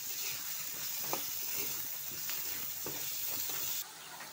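Chopped green chillies and tomatoes sizzle in hot oil in a home kitchen pan, with a steady loud hiss and scattered crackles and spatters throughout.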